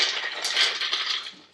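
A handful of nuts for gluten-free vegan granola tumbles and patters into a food processor bowl in a brief, close, hard-edged clatter lasting just over a second.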